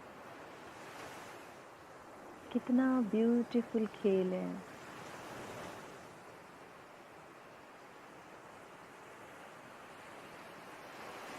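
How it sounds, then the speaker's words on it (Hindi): Ocean waves washing onto a beach, a steady broad rushing surf with wind, swelling softly, while someone speaks briefly near the start. "चलना और लहरों का पैरों पर आना"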